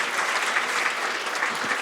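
Applause from the crowd after a shot in a 9-ball pool final, a brief burst of dense, steady clapping from a moderately sized audience that stays even throughout.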